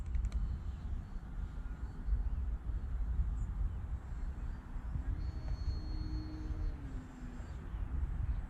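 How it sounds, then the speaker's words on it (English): An FT Legacy RC model airplane flies overhead in a low, faint, steady electric motor hum, with a soft pitch sweep of the motor passing partway through under broad outdoor background noise. "I do not want to stall this plane."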